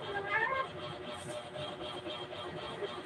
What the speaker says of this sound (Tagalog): Yung aking mga alagang pusa.